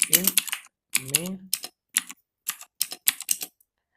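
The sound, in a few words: typing C++ code on a computer keyboard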